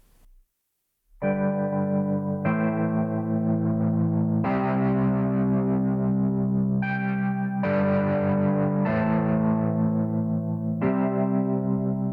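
A sustained Wurlitzer-style electric piano plays held chords through a distortion effect, with a gritty, crunchy overdrive, each new chord ringing on steadily without pause.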